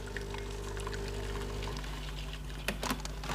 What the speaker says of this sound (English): I'm just going to flush it for about 5 seconds to keep the powder filter warm.